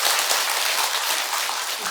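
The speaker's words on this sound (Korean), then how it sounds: "박수 한번 쳐주세요." Applause from a congregation at a Buddhist temple service fills the space with dense, steady clapping throughout, loud and close, with no voices over it.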